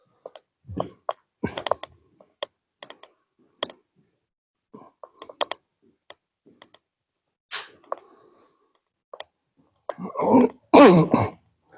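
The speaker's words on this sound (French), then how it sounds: "j'avais envie de tousser" Scattered throat clearing and short coughs close by inside ruins of an abandoned clinic, with a few faint clicks between them and a heavier burst of coughing near the end.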